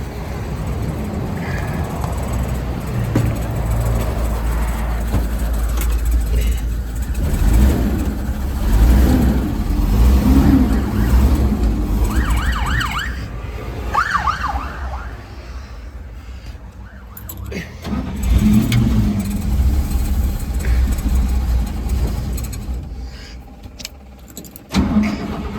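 The large engine of a 1955 International Harvester R-150 truck rumbles close by after a cold start at 11°F, its revs rising and falling in surges, with brief speech and some rattling noise mixed in.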